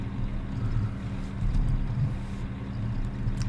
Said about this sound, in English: It sounds like the engine's just ticking over, and then there's the hum of an engine in motion